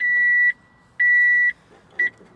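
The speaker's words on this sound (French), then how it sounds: "enclenche une alarme, c'est-à-dire que vous êtes obligé de serrer le frein à main pour pouvoir descendre de votre tracteur" The handbrake safety alarm on a Kubota EK1 261 tractor sounds as three close, loud electronic beeps. The first two are long and evenly spaced, and the last is short.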